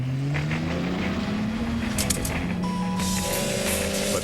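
A car engine roars and revs in a video game, the pitch rising steadily over several seconds before a brighter, higher tone cuts in near the end, with no talk.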